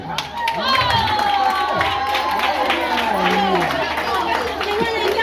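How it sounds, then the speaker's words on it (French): School awards ceremony audience claps and cheers steadily and loudly in a busy indoor crowd, with chatter and an announcer's voice talking over the noise throughout. "Applaudissez encore très fort, les amis, restez encore là."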